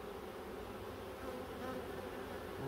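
A honeybee swarm gathering on a hive gives off a dense, continuous buzz, steady and enveloping, recorded close with no voices.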